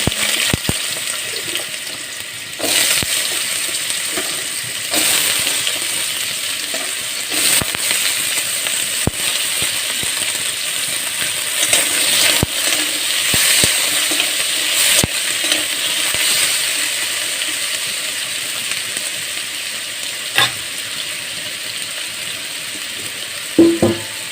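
Potatoes frying in oil in a wok give a continuous hissing sizzle with frequent sharp scrapes and knocks of a spatula, at moderate loudness and with no voices.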